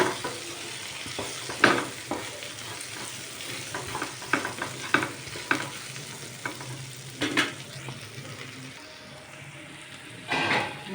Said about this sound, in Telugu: బెండకాయ ముక్కల్ని కలుపుకోవాలి.